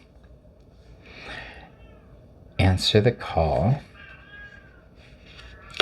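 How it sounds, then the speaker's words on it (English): A cat outside a door meows loudly in a short burst of several insistent, wavering cries, with softer meows before and after, and a person speaks briefly. "My cat's out there. She's just crazy to get in here"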